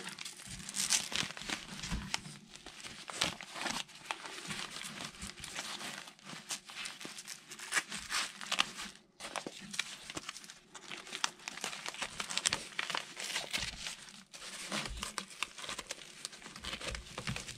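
Fabric and plastic of an AR500 IFAK medical pouch crinkle and rustle in close, steady bursts as it is folded back up, with no talk over it.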